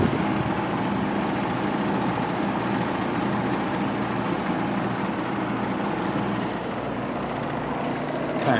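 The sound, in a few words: 1957 Fedders Weather Wheel air conditioner running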